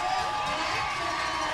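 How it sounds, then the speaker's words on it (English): A roller derby crowd at an Atlanta regional game cheers in a dense, continuous roar that fills the arena throughout. "And the Atlanta crowd cheering their approval there as Blackjack takes the star."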